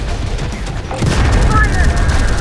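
Gunfire erupts in the shooter game Terminator: Dark Fate - Defiance, a dense, loud burst of overlapping shots and booms that swells after a quieter opening and keeps rumbling to the end.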